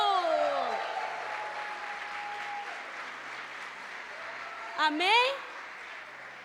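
Church congregation at a cold-night Portuguese-language service clapping in a soft, continuous patter beneath a preacher's voice and sustained keyboard tones, with a brief sung phrase rising near the end.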